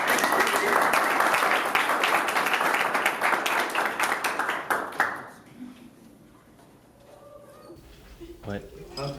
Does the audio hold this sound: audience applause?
yes